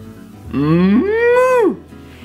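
A single long, loud cow moo, rising then falling in pitch, heard close and alone for about a second.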